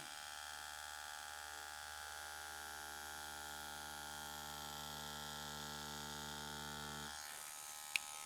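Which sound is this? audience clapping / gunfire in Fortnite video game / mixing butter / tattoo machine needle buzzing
tattoo machine needle buzzing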